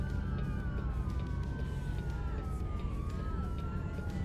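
Police sirens wail in American Truck Simulator, a couple of gliding tones sweeping slowly downward over a steady low engine rumble from the truck, moderately distant and continuous throughout.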